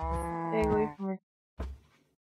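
Cattle lowing from the Minecraft video game: a loud, close, drawn-out moo with a short tail, then a second brief, fainter moo after a pause.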